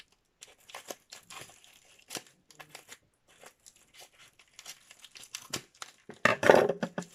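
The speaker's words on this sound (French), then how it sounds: "je vais ouvrir 2 paquets de tampons pour vous les montrer en même temps" Plastic packages of rubber stamps crinkle and rip in a series of short, sharp bursts, close by, ending in a louder tear.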